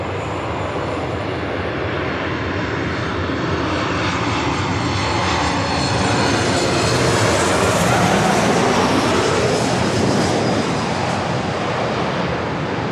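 JetBlue airliner at LAX airport, its jet engines roaring loud and steady, swelling as it passes close by, heard alone without voices.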